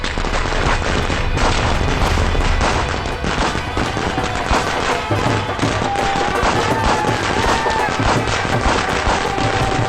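Firecrackers set off for a wedding celebration burst steadily in dense rattling volleys for about ten seconds, loud and continuous, with faint background tones and no clear speech.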